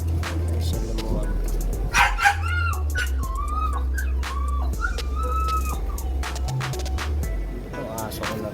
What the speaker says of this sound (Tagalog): Ito aso ko na ito.